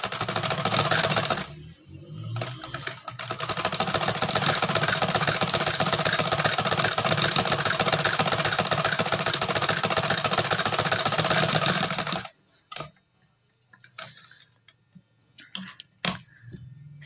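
A sewing machine runs steadily for about twelve seconds, stitching lace onto kameez fabric with a dense mechanical whir, then stops, leaving brief handling noises.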